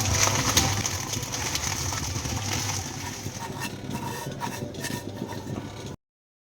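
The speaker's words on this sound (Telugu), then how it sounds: "సన్న సేమియా అంటారు కదా సో దీన్ని ఆయిల్లో డీప్ ఫ్రై చేయాలి అదే గీలో డీప్ ఫ్రై చేస్తున్నాను అనమాట" Thin vermicelli deep-frying in ghee in a pan gives a continuous bubbling sizzle that holds steady for several seconds, then cuts off abruptly into silence.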